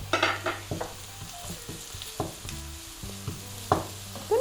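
Garlic and onions sizzle together in a pan, a continuous frying hiss punctuated by frequent light scrapes and taps of a stirring spoon, close and unaccompanied by speech.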